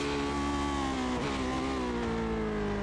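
A Lotus 79 race car in the iRacing simulator at the Detroit Grand Prix circuit, its engine droning steadily as brakes lock approaching a corner, a brief tire squeal cutting through the continuous motor tone.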